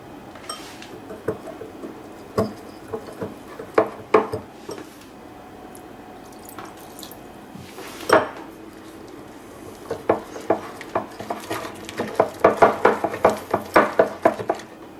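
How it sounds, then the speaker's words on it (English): Cold water is poured into a bowl and mixed into a paste for homemade enchilada sauce, giving a run of soft wet squishes and light utensil clinks against the bowl, sparse at first and then quicker toward the end. "for this part we just want to pour a little bit in and mix it until we just get a nice little paste."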